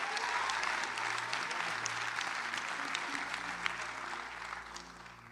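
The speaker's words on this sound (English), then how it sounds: "Let's give him a round of applause." A church congregation at a ministry service claps in a broad, sustained round of applause, fairly distant and even, with no voices rising above it.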